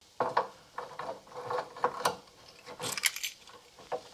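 Loose part rattling on a 1978 Corvette under restoration after its spring was stretched: a series of short metallic clicks and clattering taps in irregular bursts, close and fairly quiet, with no talking.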